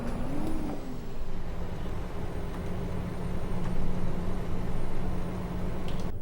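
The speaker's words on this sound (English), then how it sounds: "This is what the truck sounds like on the outside." A Volvo VNL 670 semi truck hauling a tank in American Truck Simulator, heard from outside: a steady low diesel drone with broadband road and wind noise, continuous and moderately loud, with a short rising tone near the start.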